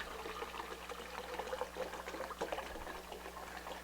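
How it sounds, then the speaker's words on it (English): Clear water pours into a clean pitcher in a steady, soft stream, faint and continuous with a light bubbling trickle throughout. "And that's a nice clean pitcher of water."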